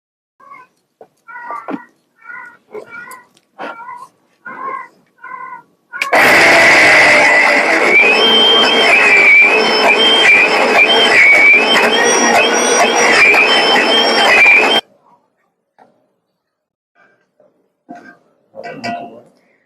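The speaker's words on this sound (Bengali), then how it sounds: "ডাল ফুলিয়ে বড় বড় হয়ে গেছে ডালটা আমি মিক্সিতে পেস্ট করে নেব" A mixer grinder grinds soaked, swollen lentils into a paste, a loud, steady motor whine lasting about nine seconds between stretches of someone speaking.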